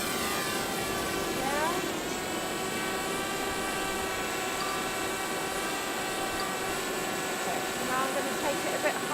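A DJI Spark drone takes off and flies over a beach, giving a steady high-pitched rotor whine with a constant tone throughout, while someone briefly speaks.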